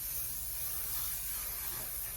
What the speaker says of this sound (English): this is my favorite hairspray. It's Kevin Murphy's Session Spray Flax Light Flexible Finishing Spray.